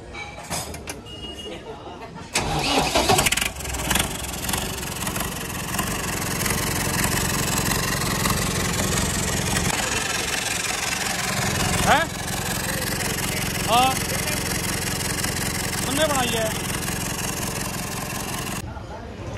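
A tractor engine fitted with a new turbo starts up and settles into a steady mid-pitched idle, running continuously with some metallic clanks and workshop noise around it.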